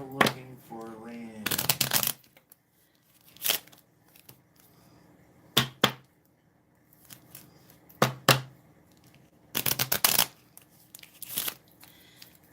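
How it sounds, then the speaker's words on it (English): A deck of cards is shuffled during a psychic medium's card reading: several quick, crisp riffling bursts close to the microphone, separated by pauses, with a voice briefly heard near the start. "I'm going to shuffle it really well and just pop it over"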